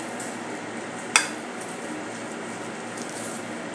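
A spoon stirs green moong vadi gravy with green chili, ginger and garlic paste in a pan, with a soft continuous sizzle and scraping and one sharp clink of metal on the pan.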